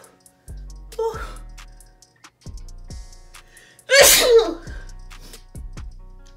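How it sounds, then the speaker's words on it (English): One sharp, loud sneeze bursts out close up, preceded and followed by short breathy gasps and exhales in a quiet room. "I told y'all that I sneeze"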